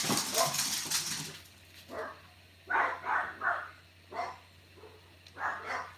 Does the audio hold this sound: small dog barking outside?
yes